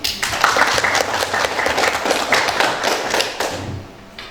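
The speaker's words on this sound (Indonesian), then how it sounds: "Beri aplaus dulu untuk Lilis" Classroom applause for a student, a dense burst of many hands clapping close and loud, holding steady before tapering off near the end.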